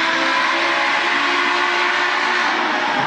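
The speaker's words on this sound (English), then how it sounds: "We're blowing off a little steam here." Union Pacific 844 steam locomotive venting steam in a steady, loud hiss that runs unbroken throughout, with no voices.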